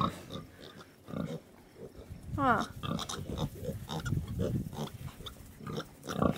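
Pigs, including piglets, grunt and snuffle close by in a farm pen, with repeated low grunts and a squealing call, mixed with a brief human murmur.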